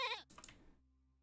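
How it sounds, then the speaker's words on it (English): Goat in the video game Minecraft giving a single short bleat, followed by a brief clattery burst that fades out quickly, close and clear with no talking. "There are also goats."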